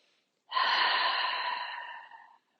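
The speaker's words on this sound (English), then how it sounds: "take a breath in and out" One long breath is drawn in and let out through the nose, close and fairly loud, with a snort-like airy hiss lasting about two seconds against near silence during a gentle yoga session.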